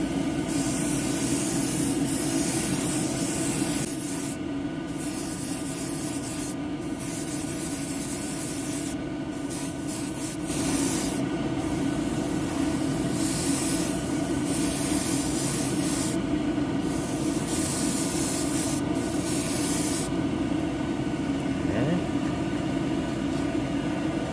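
A Gaahleri Aventus airbrush hisses steadily as it lays down a second coat of paint, a close continuous spray broken by a series of short pauses where the trigger is released and then pressed again.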